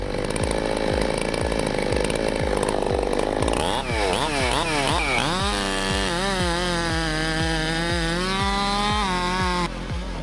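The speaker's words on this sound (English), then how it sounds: "We're looking at a properly ported Husqvarna 385 today. It's got incredible speed and power for a work saw." A ported Husqvarna 385 chainsaw cuts into wood with a rapid pulsing bark that bogs and then climbs to a high, steady scream, close and loud throughout.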